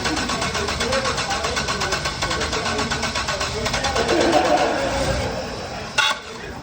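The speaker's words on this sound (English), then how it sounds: "when the car showed up during BS inspection, the engine didn't sound great" A rough-running Buick 3800 V6 in an endurance race car idles with an uneven, pulsing beat, loud and close, briefly rising in the middle before a sharp knock near the end; a voice speaks over it.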